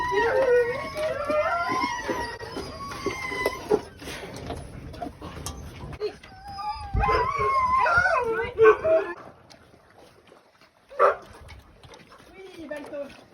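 Sled dogs at the end of the day after feeding bark, yip and howl in bursts, some close and some farther off, with a person talking over them at times and a brief pause near the end.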